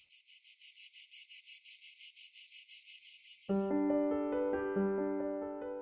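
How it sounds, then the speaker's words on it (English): Cicadas buzz in a loud, steady pulsing drone that abruptly stops and gives way to ringing bell-like tones. "listen to the cicadas and let the sound come inside"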